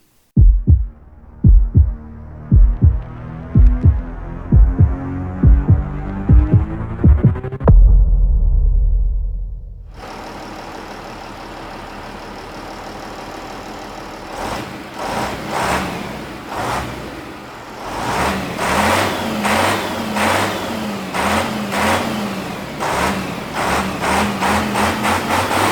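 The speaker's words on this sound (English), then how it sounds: "eventually it was time to start the truck" Tatra 815 6x6 truck engine cranks with a rhythmic series of heavy starter pulses, then catches and settles into a loud, throbbing diesel idle that swells and pulses unevenly as it runs.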